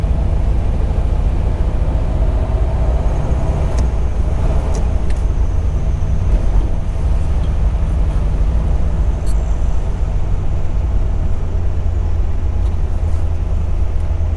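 Steady engine rumble and rushing wind from a 1957 Ford Thunderbird open-air car with a 3-speed gearbox cruising along, constant and fairly loud, with no one talking.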